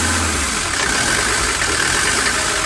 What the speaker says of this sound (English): It's a cold engine